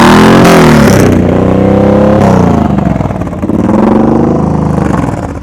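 A motorcycle engine revs at low speed during slow-speed riding practice, loud and close, with the throttle rising and falling in uneven surges over a deep rumble.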